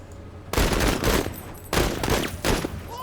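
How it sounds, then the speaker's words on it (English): Bursts of automatic gunfire in a military video game, loud and close, with three rapid volleys separated by brief pauses and no talk. "16 shots left for Darby. Keep it up, Marine."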